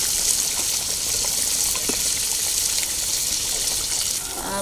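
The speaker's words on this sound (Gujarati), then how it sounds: "થોડું વધારે રસદાર બનાવવા માટે થોડું પાણી નાખીશું" Water pours steadily into a pot of thick Kathiyawadi gravy for varadiyu shaak, a continuous close gushing splash that holds for about four seconds before tapering off, with no talking.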